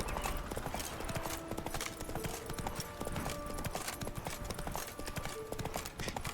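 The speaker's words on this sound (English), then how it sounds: "So throughout the books and these games, Ciri's horse is called Kelpie." Horse hooves clip-clop steadily and at a brisk pace on a road in the video game The Witcher 3, a continuous rhythmic patter with no pauses, playing alongside sustained tonal background sounds.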